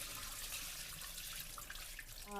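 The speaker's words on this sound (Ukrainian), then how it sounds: "Добре-добре має промитися рис." Rice is rinsed by hand in water in a kitchen while cooking plov, giving a faint, continuous swishing and trickling of water with small splashes and no voices.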